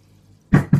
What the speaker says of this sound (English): fill this with water